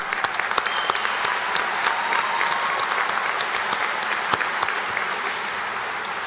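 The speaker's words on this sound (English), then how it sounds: "You all deserve another round of applause." A large crowd claps steadily and densely at a college commencement ceremony, producing a loud, sustained wash of applause with no pause.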